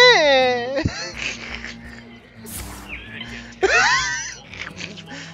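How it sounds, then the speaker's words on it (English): Shrill, wavering raptor screeches from Jurassic Park come in two bursts, one at the start and one later, over background chatter and room noise at a Hearthstone social gathering. "I think that was a raptor noise from Jurassic Park"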